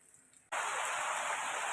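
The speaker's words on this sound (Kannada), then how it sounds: "ಹೊರಗಡೆ ಜೋರು ಮಳೆ ಬರ್ತಾ ಉಂಟು" After a quiet moment, a loud, dense hiss of heavy rain suddenly fills the air and continues evenly.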